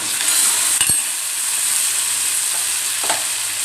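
Chopped onions and tomatoes sizzling in hot oil in a pan as they are stirred, a steady close frying hiss with a couple of brief scraping clinks from the spoon.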